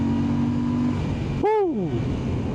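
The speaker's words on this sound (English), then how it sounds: "Let's do another acceleration." A Royal Enfield Classic 650 motorcycle revs up hard, with a rising engine note after a brief dip, loud and close over steady road and wind noise.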